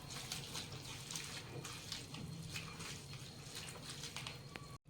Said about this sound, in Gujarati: હવે આપણે 3 પાણીમાં ધોઈ કાઢીએ.